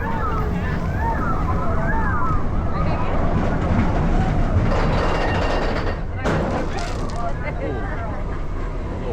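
Expedition Everest roller coaster at Disney's Animal Kingdom, heard from the ride: loud continuous rushing wind and rumbling track noise with a crowd babbling underneath and rising and falling pitch from the wheels, a brief drop in roar near the end.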